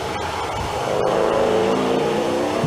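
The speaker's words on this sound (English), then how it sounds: "The engine note of that car at idle sounds nothing like it when it's running." A racing car at the Leyburn Sprints, driven by Doug Rath, gives a loud, steady engine drone that swells slightly as revs build, with a couple of sharp clicks early on and no talking.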